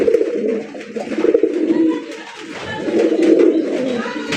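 Pigeons at a farm coo in rolling, throaty bursts that swell and fade over a few seconds. They sound close and fairly loud, with no talking.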